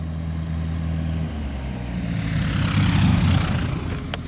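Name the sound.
light propeller airplane after landing on a field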